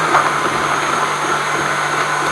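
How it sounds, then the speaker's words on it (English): An electric whisk beating a warm egg and sugar mixture for a parfait, a steady continuous motor whir with a faint hum, close and fairly loud, no talking. "you're going to basically whisk that up now until it's nice and warm"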